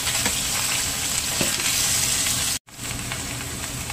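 Vegetables are stir-fried in oil for Hong Kong-style borscht, giving a loud, continuous sizzle with stirring scrapes and a brief cut near the end before the frying resumes.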